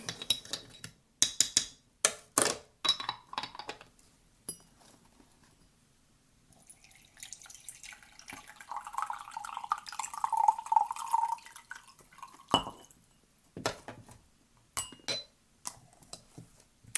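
Green tea stirred in a cup, with sharp spoon clinks and taps against ceramic in quick clusters, a quieter liquid swirl in the middle, then more clinks.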